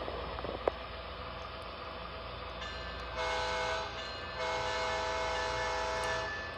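An MTH model train locomotive on a Christmas layout running with a steady electronic hum and whine, joined by sustained horn-like tones that switch on and off partway through.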